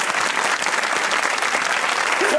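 Studio audience on a Pakistani comedy talk show bursts into steady, dense applause, a continuous wash of clapping from many hands throughout, with no one speaking over it.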